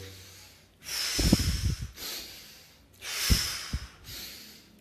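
Two slow cycles of forceful belly breathing, each a loud, close, airy inhale and exhale with a rough, snorting rush of breath, separated by brief pauses, with no talking.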